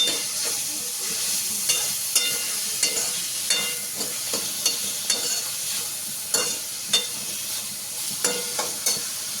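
Whole green chillies dropped into hot oil for a spicy pasta dish crackle in a loud, continuous sizzle, with frequent sharp pops and spatters, close up and with no talking.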